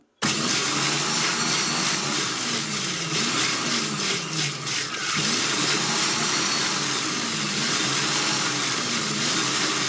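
Monsieur Cuisine Connect food processor (Lidl Silvercrest SKMC 1200 A1) whirring loudly and steadily on turbo after an abrupt start, with a wavering motor drone and a brief rattling change midway, close by and with no talking.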